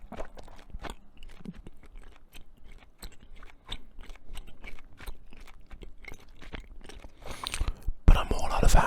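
Close, wet chewing of bubblegum with sticky smacks and soft crunchy bites in a steady, irregular rhythm, recorded intimately, with a louder rustling burst near the end.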